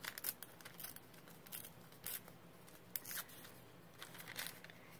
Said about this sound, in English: Now, my question is, yes, I want to tear it.